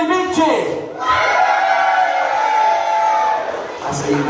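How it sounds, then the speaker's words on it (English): Loud cheers, whoops and shouts from a crowd at a village talent show final, swelling after a brief voice and fading near the end. "can you give yourselves a really big cheer?"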